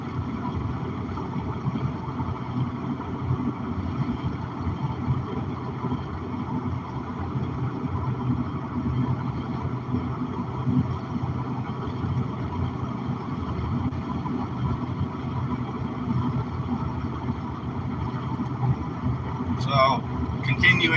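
Steady low rumble of road noise inside a moving car, continuous and even for the whole stretch, under someone talking.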